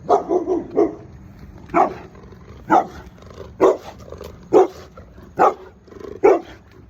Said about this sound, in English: bad dog, man